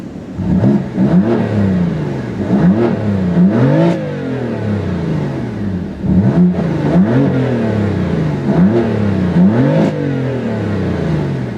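A 2015 BMW M3/M4 exhaust, valves fully open, revs hard again and again, each blip rising and falling in pitch, loud and close with no talk.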